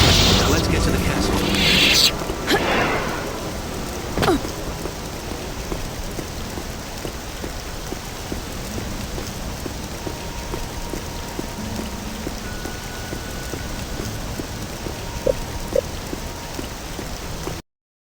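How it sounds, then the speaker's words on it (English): Steady rain pours down in the Android version of Star Wars Jedi Knight: Jedi Academy, a constant hiss of drops on surfaces with a heavy thud early on and a voice speaking over it. "it's good to get out of that rain."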